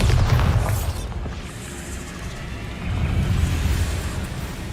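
A Bombarda spell explosion in the video game Hogwarts Legacy booms heavily at the start, fades into a rumbling tail, then swells again with another low blast.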